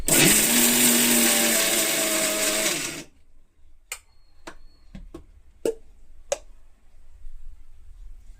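A loud electric mixer grinder whirs steadily for about three seconds grinding peanuts with asafoetida, winding down, then stops, followed by a few sharp clicks and clatters in a quiet room.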